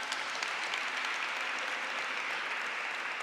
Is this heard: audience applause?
yes